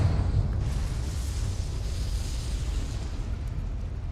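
Confringo fire spell explosion in the video game Hogwarts Legacy, a sustained low boom with a rumbling roar that fades slowly over a few seconds.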